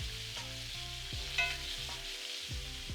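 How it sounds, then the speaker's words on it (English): Steaks frying in a pan and being basted with garlic cloves, rosemary and thyme give a steady broad sizzle, with a few soft scrapes and spoon taps under it and no talking. "And start basting these steaks as they cook."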